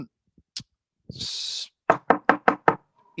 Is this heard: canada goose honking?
no